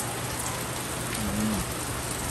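Steady rain falls on a farm, a dense, even hiss with no breaks and no voices.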